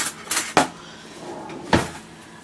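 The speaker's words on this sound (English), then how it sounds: "we're going to get a butter knife out of the drawer." Kitchen drawer pulled open to fetch a butter knife, giving a few brief wooden clacks and rattles at close range in a quiet room with no talk.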